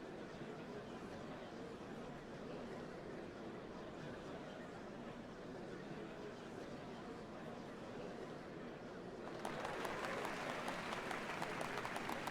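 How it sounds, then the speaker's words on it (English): A crowd in the video game Final Fantasy XIV gathers for the changing of the Dawn servants, murmuring at first and then breaking into a swell of sustained applause near the end, with a voice talking underneath. "What a crowd!"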